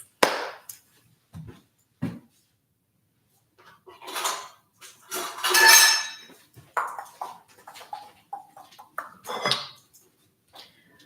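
Utensils clink and rattle among dishes and pans while cooking fried rice, with a few sharp scattered knocks followed by a louder cluster of clattering, close and intermittent with no talking.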